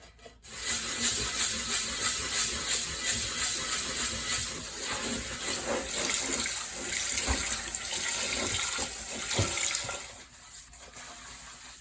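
Cold tap water runs steadily over a cast iron piece being rinsed after a lye tank cleaning, a continuous close splashing hiss with small clanks and shifts, lasting about ten seconds before cutting off.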